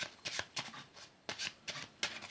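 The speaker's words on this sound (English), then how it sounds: "So they're going to shuffle it into the pack." A deck of playing cards is shuffled by hand in close, quick bursts, about six crisp riffling rustles in an uneven rhythm with no talking.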